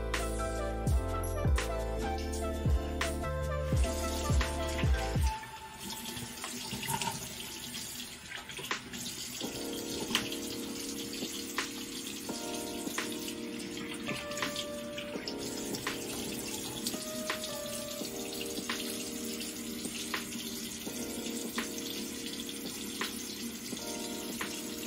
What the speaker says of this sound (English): I'm gonna rinse it off right quick